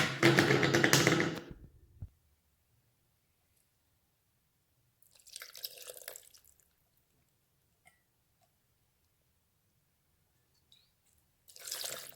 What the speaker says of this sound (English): So I'll add some water from the chicken stock to it.